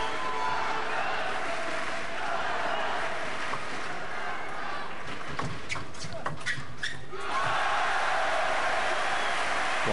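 A table tennis crowd at the 2003 world championships applauds, a broad wash of clapping that swells in the middle before settling back to hall ambience, with a commentator talking over it.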